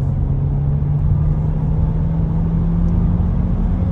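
A Volkswagen Passat B8 Variant with a 1.5 TSI 150 hp engine and a DQ200 seven-speed dry DSG accelerates at full throttle. The engine gives a loud, steady drone and road rumble from inside the cabin.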